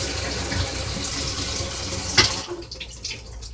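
Water runs from a tap in a motorhome in a steady close splashing gush, with a brief clatter just past the midpoint before the flow fades to a quieter trickle.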